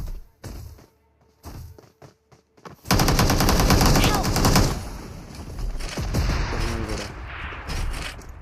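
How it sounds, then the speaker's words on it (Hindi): Sustained automatic gunfire in PUBG, loud rapid bursts after a few scattered shots, with continuous fire trailing on under a speaking voice. "पेट्रोल पंप के साइड से फायर आया"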